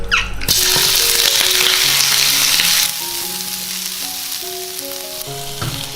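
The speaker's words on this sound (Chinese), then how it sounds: "把鸭肉放进来炒干血水" Duck meat stir-fries in a little oil in a pot, cooking off its blood and moisture, with a loud, close, hissing sizzle that dips slightly halfway through, over light stirring and background music, with no talk.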